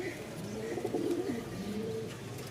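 Giribaz pigeons coo low and steadily in a cage after a single female is released among them, the throaty rolling calls continuous and close throughout.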